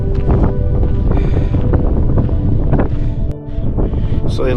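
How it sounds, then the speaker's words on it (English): Strong wind near New Army Pass on the Mt. Langley hike buffets the microphone with loud, continuous roaring gusts that barely let up. "It's very windy up here."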